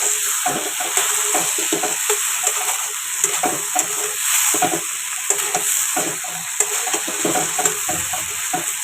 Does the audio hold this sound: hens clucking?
no